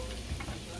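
New York strip steaks sizzle in a hot pan with garlic butter, giving a steady, close frying hiss that lasts the whole short moment, with no one talking.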